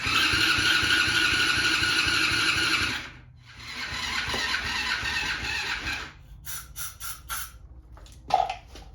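A 50cc Tao Tao quad engine cranks with a rapid churning starter whir in two long bursts separated by a short pause, followed by quieter clicks and knocks with no catch.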